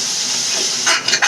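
Pureed tomatoes stirred into sizzling lobia curry in a pan over medium flame: a steady close hiss with a brief louder wet splutter and stirring scrapes toward the end, no talk.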